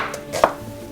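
A knife cuts a large onion into thin half-rings on a board for a fried eggplant and egg recipe, giving a single crisp close chopping thunk amid quiet kitchen background.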